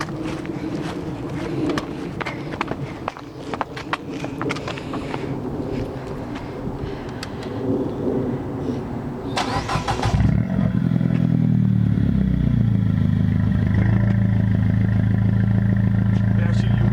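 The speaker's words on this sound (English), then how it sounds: "So you can hear the exhaust." A 2009 Mini Cooper S (R56) with a Flowmaster Super 10 muffler and Invidia Q300 piping starts up after chatter and clatter, then settles into a loud, steady, droning idle close by.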